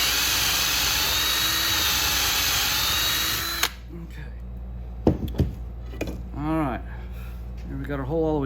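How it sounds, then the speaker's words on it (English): A power drill bores a 5/16 hole through a wooden take-down recurve bow riser, a loud steady whine that cuts off abruptly, followed by quiet handling knocks and someone talking. "I'm going to drill this one all the way through"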